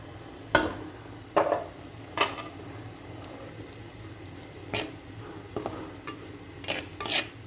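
Cooked sardines are being mixed with tapioca in a pan, giving sharp intermittent scrapes and clacks of a utensil against the pan over a soft low sizzle, close and spaced irregularly.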